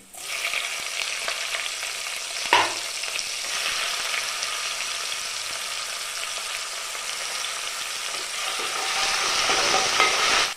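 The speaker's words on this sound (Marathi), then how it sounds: "लसूण छान सोनेरी झाले त्यामध्ये टोमॅटो टाकते" Tomato sizzling in a pan with golden-fried garlic for a river crab curry, a dense continuous hiss with a brief stirring scrape early on, close-up and steady throughout, no talking.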